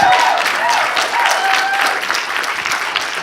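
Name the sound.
audience applause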